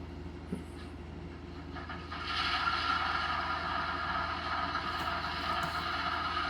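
A model switcher locomotive's sound decoder on a Digitrax DCC layout comes on partway through, rising from quiet room tone to a steady diesel rumble with faint mechanical clatter and a few brief high hisses.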